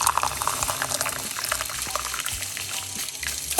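Hot water pours steadily into a medium-sized pot, a continuous splashing gush with a bubbling, rushing texture and no voices.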